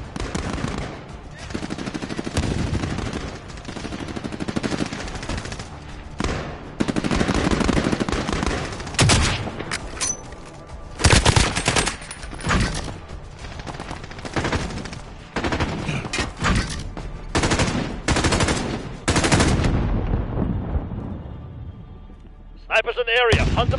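Video game combat erupts with loud machine gun bursts, rapid fire coming in repeated volleys and broken by short pauses over nearly half a minute, with a few distant pops near the end.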